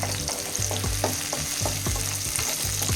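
Garlic and ginger fry in a hot pan of oil, a steady loud sizzle with regular scraping stirs roughly every quarter second, close and with no voices.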